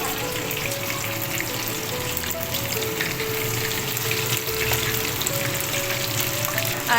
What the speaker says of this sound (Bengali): এটা লো বা মিডিয়াম ফ্লেমে ভাজতে হবে নাহলে কিন্তু ওপরের স্তরটা পুড়ে যাবে আর ভেতরে মাছটা কাঁচা থেকে যাবে